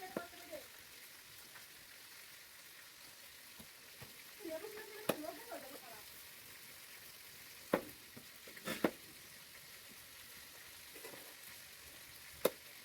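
Fish frying in a pan in a village kitchen, a quiet steady sizzle with scattered pops and crackles and a few stirring scrapes, under people talking.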